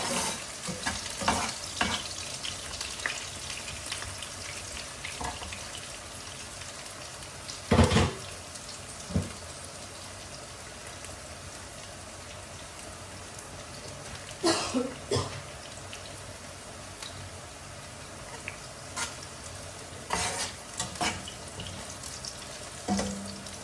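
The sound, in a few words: onion and garlic frying in a pan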